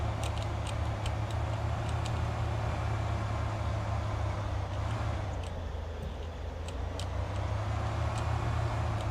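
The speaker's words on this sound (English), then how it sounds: "This car picks up speed really quickly." Car engine in the video game Thief Simulator, a steady low drone with faint periodic ticking on top, continuous and fairly loud throughout with no talk.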